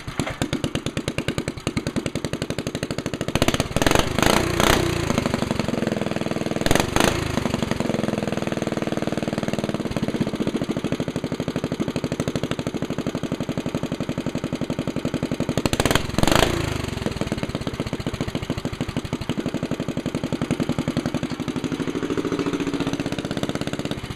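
A Snowbird motor pull-started and left running, a steady loud engine drone with a few sharp clattering bursts near the start and again later, no talk over it.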